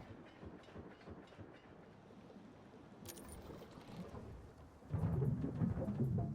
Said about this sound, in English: There's a train coming down the tracks.